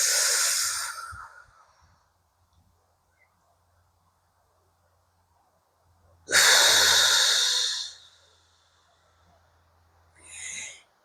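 Slow, deliberate breaths for lowering blood pressure: a loud, breathy exhale at the start, a long quiet pause, then a second strong, airy breath and a shorter final puff, all close and with no talk.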